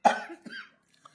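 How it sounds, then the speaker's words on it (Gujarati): A single sharp, close cough, a strong first burst followed by a couple of smaller rasping expulsions and a faint catch of breath, then quiet. "બહુ ઉધરસ ખાધી હો."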